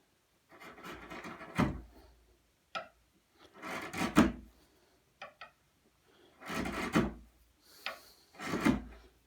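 Chisel paring across the end grain of a piece of wood, four separate close scraping, shaving strokes spaced a couple of seconds apart, with short quiet pauses in between and no talking.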